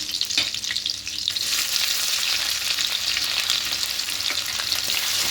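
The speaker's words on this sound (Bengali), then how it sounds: "তেলের মধ্যে ফোড়ে দেবো প্রথমেই দেবো রসুন কুচি এবার দেবো আদা কুচি" Chopped garlic and ginger fry in hot oil with a loud, dense, continuous sizzle close by, swelling after the first second as the pieces are stirred through.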